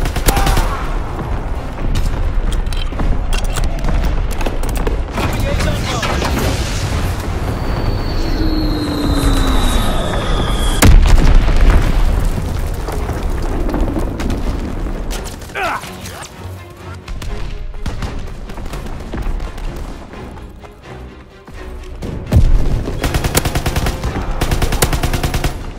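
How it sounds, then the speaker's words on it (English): Artillery battery in a video game firing repeatedly, a dense stream of booming shots and crashing impacts with whistling shells, loud and continuous throughout with a brief lull near the end. "Russian artillery ready for orders. Fire zone confirmation. Firing primary battery."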